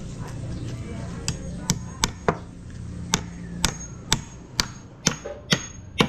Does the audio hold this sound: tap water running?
no